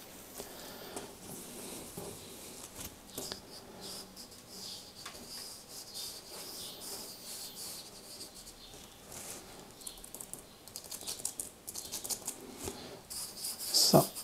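Quiet, continuous back-and-forth scraping of wet sanding an AMD 7900X CPU heat spreader with distilled water, growing a little louder near the end, with no talking.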